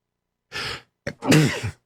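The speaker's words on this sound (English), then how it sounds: "I'm going to sneeze." A single sneeze, with a sharp breath in, a short catch, then a loud voiced burst, close up and alone.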